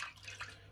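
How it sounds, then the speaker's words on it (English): Hands dipped into a basin of water during a wet shave with a safety razor, a short soft splash and trickle of dripping water, close and quiet. "Just put my hands in the water then after wiping that off."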